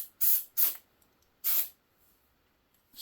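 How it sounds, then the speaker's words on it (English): Short, sharp hissing bursts from a spray paint can held upside down to clear the nozzle, three quick blasts close by with pauses between, then a fourth starting at the end. "Always turn your can upside down."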